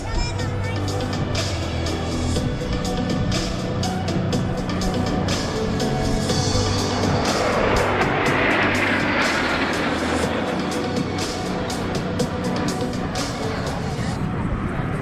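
Patriots Jet Team jets make a belly-up pass at the 2023 Southern California Airshow, a loud continuous jet roar that swells and sweeps past over crowd noise and public-address talk.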